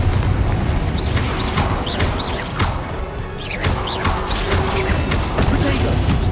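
Confringo spell blasts in Hogwarts Legacy, a dense run of booming impacts and crashes from game combat that continues throughout, with faint chirpy effects layered on top.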